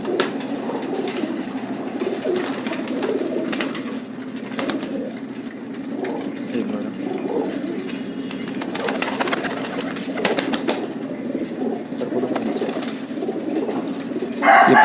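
Pigeons from a breeder pair coo steadily in low, rolling phrases throughout, with bird calls layered over a constant murmur of nearby birds.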